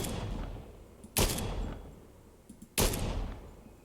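Two sharp, loud gunshots from a Fortnite weapon, each a heavy crack with a short ringing tail, spaced about one and a half seconds apart over a low ambient background.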